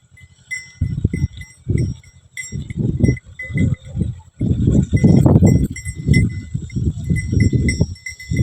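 Cattle, horses and sheep grazing on sparse pasture with little fodder give off repeated animal calls and rustling bursts, while faint bell-like tones ring steadily in the background.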